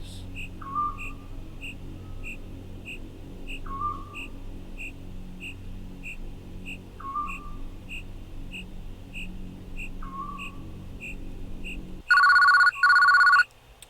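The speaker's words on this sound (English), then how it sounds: "Glad a phone call woke me up. I'll just answer it real quick." A telephone rings in a horror video game, a repeating electronic trill in short bursts about every three seconds over a low ambient drone, ending with a louder, denser ring near the close.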